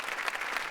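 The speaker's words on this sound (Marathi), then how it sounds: "जोरदार टाळ्या झाल्या पाहिजे या दोघांसाठी" A studio audience at a Marathi television comedy show breaks into steady, dense applause, a brief burst of many hands clapping together with no voices over it.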